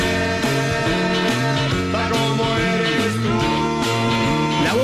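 A recorded rock song plays with a busy full-band texture of shifting guitar and bass notes, steady and moderately loud throughout, with no talking.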